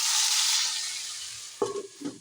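Hot tadka is poured over dum-cooked potatoes for a dahi aloo dish, giving a loud, bright sizzle that fades over a second and a half. A few short scraping stirs follow.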